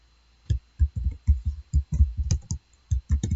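Rapid keystrokes on a computer keyboard while entering a search in a Google Chrome browser, a close, uneven run of soft clicks and thumps with short pauses between bursts, no talking.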